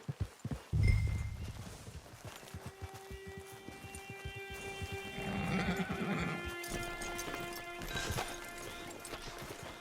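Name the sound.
horse hooves and whinny in video game Red Dead Online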